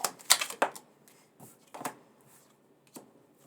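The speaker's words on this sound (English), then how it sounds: "I'm going to do one more shuffle." A few quick papery riffles of cards being shuffled, soft bursts separated by short pauses, close by and fairly quiet.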